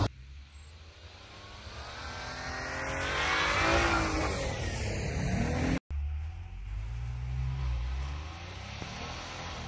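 A Jeep Cherokee engine revs hard and steadily as the tires churn through warm, slushy spring snow on a mountain climb. The loud, sustained roar surges and holds, with a brief cut near the middle, and no one speaks.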